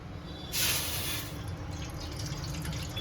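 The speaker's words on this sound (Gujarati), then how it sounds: "ગેસ્ટ સ્ટવ આપણે ઓન કરી દઈએ થોડું પાણી એડ કરી દઈએ" Water is poured into a large pot on a gas stove to start a sugar syrup, a brief splashing rush that swells, then settles into a softer trickle.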